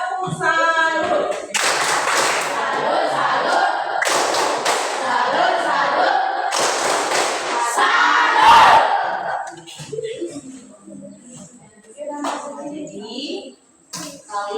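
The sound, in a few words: class clapping a 'tepuk salut' clap pattern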